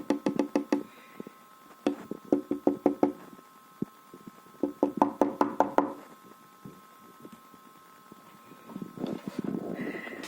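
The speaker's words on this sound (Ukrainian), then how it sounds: "Хотіла постукати, щоб не налякати її." Someone knocks on a small gate in a farmyard in rural Ukraine. The knocks come as quick rapping bursts of several sharp, close strikes each, repeated with pauses between them, and a softer rustling sound follows near the end.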